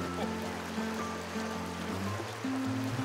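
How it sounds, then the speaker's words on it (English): A river flows at a shoreline in Prince Edward County as a continuous soft rush, with a low droning hum beneath it and no one speaking. "You have the sound of the river in the background"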